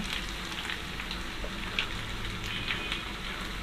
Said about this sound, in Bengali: রসুন বাটা এবং আদা বাটাটাকে আমরা একটু ভেজে নিব, যাতে ওর কাঁচা গন্ধটা না থাকে